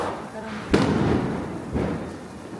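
Diwali firecrackers burst as two dull, booming thuds about a second apart, set against a busy background with voices.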